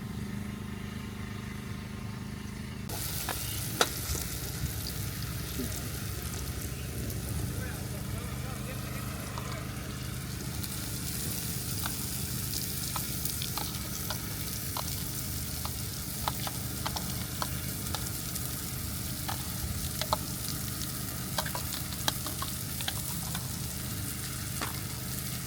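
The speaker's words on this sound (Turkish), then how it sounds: "Çıtır çıtır sesleri geliyor." Breakfast food fries in a pan outdoors at a caravan camp, a steady close crackle and sizzle running throughout with occasional pops, under intermittent low voices.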